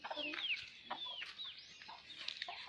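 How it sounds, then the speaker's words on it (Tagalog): Several chickens cluck and squawk nearby in a busy, overlapping chatter, fairly faint overall. "Mao to na daghang mga manok diri."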